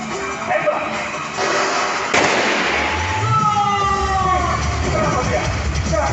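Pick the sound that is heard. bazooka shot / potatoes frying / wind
bazooka shot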